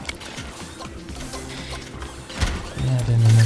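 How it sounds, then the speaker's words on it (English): A pill printer machine in the factory game Big Pharma runs with clicking, ratcheting mechanical noises, ending in a louder steady whirring hum, and faint talk underneath. "add in another pill printer there"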